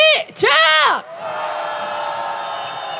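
After a single loud shouted call, a street protest crowd at a candlelight march demanding the president's resignation roars back, a sustained, dense wall of shouting that holds steady to the end.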